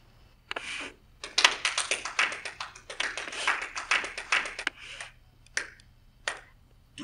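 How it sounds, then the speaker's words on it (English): A small group of people clap in scattered, uneven bursts for about five seconds in a quiet office room, then a couple of isolated claps trail off near the end. "This is where you clap."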